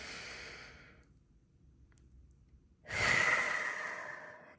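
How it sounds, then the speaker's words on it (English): A long exhale trails off into quiet, then a deep breath is drawn in sharply and held as a close, breathy rush, unaccompanied by talk. "Another deep breath in. Clear it out."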